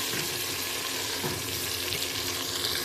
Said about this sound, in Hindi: इसकी अब मैं 5 मिनट तक बुनाई करूँगी।